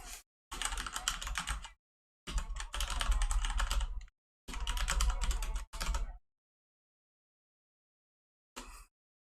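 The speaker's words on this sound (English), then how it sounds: "I'll type you my email now." Bursts of rapid typing on a computer keyboard in a quiet room, several clustered runs of keystrokes separated by pauses, with a brief final tap near the end.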